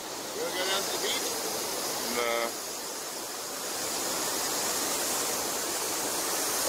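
A waterfall with strong flow, roaring as a loud, dense, steady wash of water from close by, with brief faint voices near the start.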